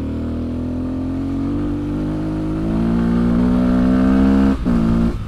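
A Fantic 125 motorcycle engine pulls hard uphill, its steady loud drone rising in pitch as it accelerates, with a brief dip near the end before climbing again.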